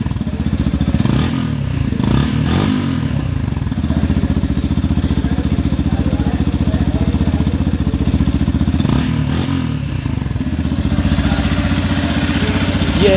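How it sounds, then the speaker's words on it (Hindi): A 2023 Yamaha FZ-X with a 149cc engine idles close by in a loud, even, steady putter, with a few light clicks and clatters over it. "यह है इसके इंजन की आवाज।"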